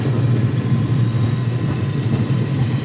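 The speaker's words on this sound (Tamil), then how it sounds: "பெங்களூர் ஏர்போர்ட்டுக்குள்ளே கூடுதலத்தில் இறங்கியாச்சு ரன்வேல போயிட்டுருக்கோம்" An airliner taxis along the runway at Bengaluru airport after landing, giving a steady, loud, low rumble with a constant hum that continues evenly throughout and has no talking over it.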